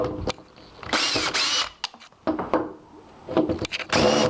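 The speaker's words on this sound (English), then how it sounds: "Use the screwdriver. Oops, for that, the clutch is on." A power screwdriver backs screws out of old window hardware on a weight-style window being restored. Several short, loud whirring bursts come in quick succession, separated by brief pauses and small clicks of handling.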